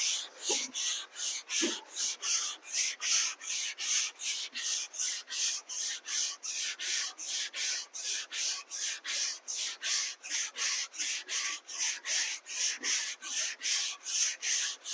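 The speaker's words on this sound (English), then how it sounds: "you want to always be sanding against a nice fresh edge" Steady, rhythmic sanding strokes rasp back and forth over wood, close and loud, repeating evenly about twice per second with no talking.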